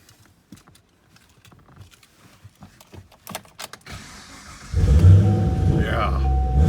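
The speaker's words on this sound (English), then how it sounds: "So let's climb in and we'll fire this one up." A 2013 Chevrolet Camaro 2SS 1LE V8 with dual mode exhaust being started from inside: quiet clicks and rustling, then a sudden loud engine catch settling into a deep, rumbling idle up close.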